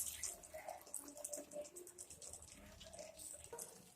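Water is poured from a small vessel into a pan of vegetables for chilli gobi, a faint trickling and splashing stream with a few brief drips, soft and close in a quiet kitchen.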